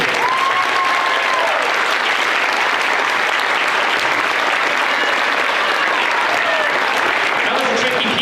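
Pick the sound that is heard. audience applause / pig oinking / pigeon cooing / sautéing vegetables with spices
audience applause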